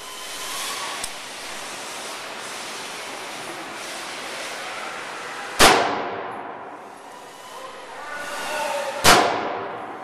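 Two sharp, loud gunshots about three seconds apart during ballistic testing of lightweight armor, each leaving a ringing tail over steady outdoor background noise.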